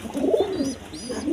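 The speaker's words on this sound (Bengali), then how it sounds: "এখানে এক পেয়ার কবুতর আছে, দেখেন একদম কোয়ালিটি সম্পন্ন কবুতর" Pigeons coo steadily at a pigeon farm, a pair kept with their chicks, the low throaty murmurs overlapping in close, continuous waves with no talk.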